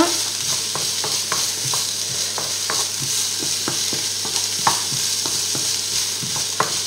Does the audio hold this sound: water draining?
no